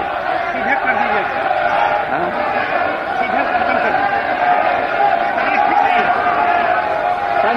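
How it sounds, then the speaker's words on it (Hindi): Opposition legislators in the Bihar assembly raise a continuous, dense uproar of overlapping shouting voices during the monsoon session, loud and unbroken throughout. "हल्ला हंगामा जो है वो शोर कर रहे हैं"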